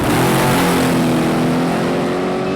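A modified 240-inch wheelbase rear-engine dragster with a supercharged 350 motor runs loud and close, a steady heavy engine drone with harmonic whine and no talk.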